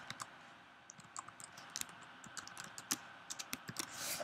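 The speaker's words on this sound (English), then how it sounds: "type in a new name for your virtual machine" Quiet keystrokes on a computer keyboard, clicking in short irregular bursts while a name is typed, close but soft with no voices.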